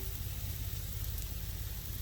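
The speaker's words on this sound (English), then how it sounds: "Hopefully you can hear the sizzle here." Steady, close sizzling of chicken saltimbocca frying in a hot skillet, a constant crackling hiss with no speech.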